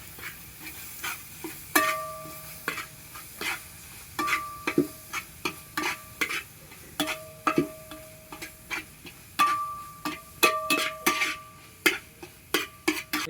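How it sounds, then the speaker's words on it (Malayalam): A spoon stirs tomato masala frying in a pan for a Kerala fish pollichathu, giving a steady run of close, sharp scraping clicks over a soft continuous sizzle, with no talking. "നന്നായിട്ട് മിക്സ് ചെയ്യാം."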